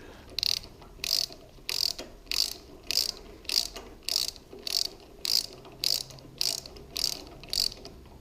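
Torque wrench ratcheting while tightening a spark plug on a Honda GX340 engine, a steady series of about fourteen close, crisp clicking bursts at an even rhythm.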